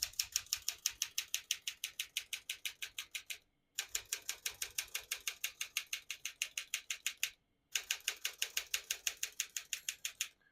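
Brisk typing on a 1958 Smith-Corona Silent-Super portable typewriter: rapid, evenly paced mechanical key strikes in three runs separated by two short pauses, close and crisp with no voices.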